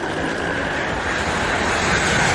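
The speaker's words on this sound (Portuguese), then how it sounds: "O voo 401 da Eastern Airlines passa com estrondo por eles." Eastern Air Lines Flight 401 roars low over the Everglades, a loud, continuous broadband jet rumble that fills the entire short stretch without a break.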